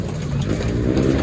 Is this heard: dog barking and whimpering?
no